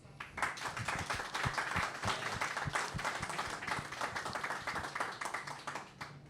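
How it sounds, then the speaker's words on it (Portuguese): Audience applause at a book talk on cover designer José Santa Bárbara, with scattered individual claps standing out over a steady patter from a modest crowd, sustained at moderate level throughout. "Vou começar pelo mestre José Santa Bárbara. Um aplauso."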